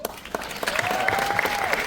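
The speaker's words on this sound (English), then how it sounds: "who remembers that by round of applause?" Audience at a cruise ship comedy show breaks into a short burst of applause and clapping, with a thin whistle rising above the crowd partway through.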